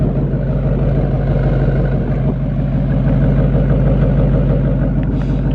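A 2017 Mustang GT with a Borla ATAK axle-back exhaust idles steadily, a deep, continuous low rumble with a constant throb, close and loud with no voices.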